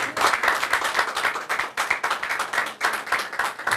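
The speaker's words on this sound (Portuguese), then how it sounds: "Palmas para ela mais uma vez." Applause and clapping from a crowd at a Tocantins COVID-19 vaccination campaign launch, greeting the first person in the state to be vaccinated; dense, steady, fairly close clapping with individual claps standing out throughout.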